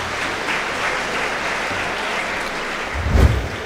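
Audience applause follows a poem at a 2017 Tamil poetry recital held for Diwali. The clapping is steady and fairly full, with a brief louder swell near the end.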